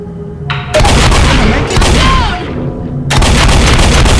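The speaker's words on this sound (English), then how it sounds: "Stop shooting me!" Loud, close gunfire from the Left 4 Dead video game, with dense bursts of rapid shots that break off briefly and resume, all heard without speech.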